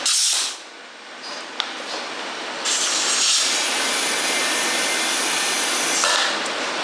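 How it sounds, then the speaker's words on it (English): A steady hiss of air from a compressor rushes continuously through a hose while inflating a vehicle tire, loud and close, with a few clicks and a short pause near the start. "Now we can air her up."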